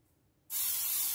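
Cooking spray aerosol being sprayed onto a pan in a home kitchen, a sudden sharp hiss that starts after a short silence and holds steady, close and loud.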